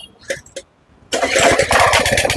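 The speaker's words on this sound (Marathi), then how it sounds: "असं रिकॉल स्टार्टनं मशीन आपलं आता ही चालू करणार आहे आपण" A small engine machine with a recoil starter: two quick rope pulls, then the motor catches and runs at a loud, steady, close idle.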